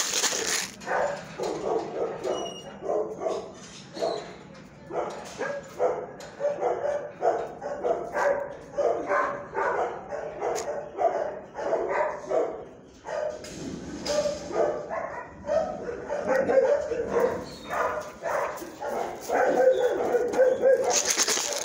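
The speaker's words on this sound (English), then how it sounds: "Good doggy, Bella." A dog at a PACC shelter kennel barks repeatedly in loud, close bursts mixed with yips and whimpers, while a person speaks softly now and then in between.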